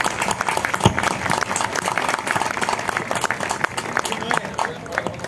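A live audience applauds the sound crew at a folk music show: dense, continuous clapping from a sizable crowd fills the space, fairly loud, with some murmuring voices mixed in.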